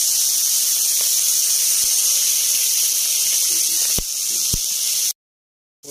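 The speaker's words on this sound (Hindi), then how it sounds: "डाल दिया फ्राई कर लेते हैं थोड़ा करके, फ्राई करेंगे। ये चिकन कीमा है," Chicken keema sizzles in a frying pan with a steady, bright hiss, broken by a few soft clicks and knocks, before it cuts off abruptly near the end.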